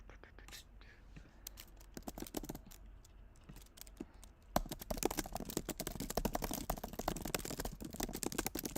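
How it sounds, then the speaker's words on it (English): Rapid clicky computer keyboard typing, close and quiet at first, then louder and busier after a few seconds, with faint murmured voices beneath. "Those are some good keyboard noises."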